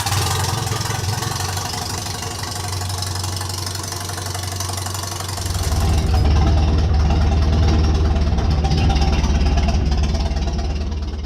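A 1935 Farmall tractor engine runs loud and close with a steady low throbbing idle, then grows heavier and deeper partway through.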